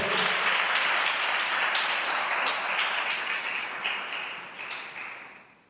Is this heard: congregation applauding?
yes